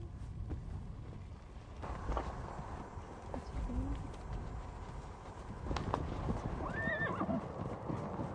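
Horses whinny a couple of times amid the slow clip-clop of hooves, faint and somewhat distant, with quiet outdoor ambience.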